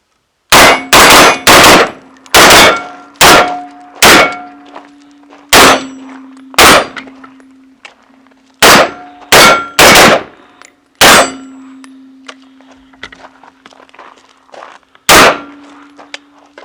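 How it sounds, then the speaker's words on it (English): Rifle shots fired downrange with a Rise Armament Iconic trigger, about a dozen loud sharp cracks, some in quick pairs and others spaced out, each followed by a short ringing decay, with no talking. "We'll shoot some rounds down range, see how she fires."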